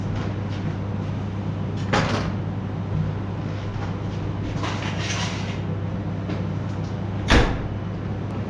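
A domestic oven door opens and closes in a kitchen, with clunks near two and seven seconds over a steady hum, no talking.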